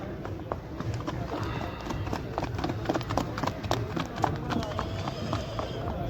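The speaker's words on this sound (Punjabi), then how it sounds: "ਤੁਰਦੀ ਸੋਹਣੀ ਘੋੜੀ" A mare's hooves clop in a steady walking rhythm on hard ground at the Muktsar horse fair, with voices talking over it.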